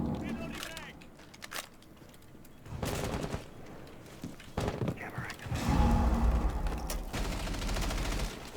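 Bursts of rapid gunfire and thuds in a video game session sound over steady background game audio, with people talking at times.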